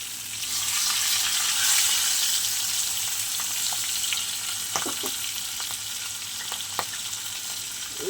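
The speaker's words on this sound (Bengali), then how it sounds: "এখানে পাঁচফোড়ন ফোড়ন দিয়ে দিয়েছি আর কাতলা মাছের মাথাটা ভেজে নিচ্ছি।" A catla fish head fries in oil seasoned with panch phoron, giving a continuous loud sizzle with a few sharp clinks and spatters in the second half. No one speaks.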